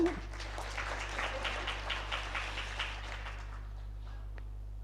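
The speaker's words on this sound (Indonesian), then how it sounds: "boleh tepuk tangan untuk dia" Scattered applause rises faintly in a hall during a law faculty pre-graduation ceremony, a thin patter of clapping under a steady low electrical hum that thins out and fades after about three seconds.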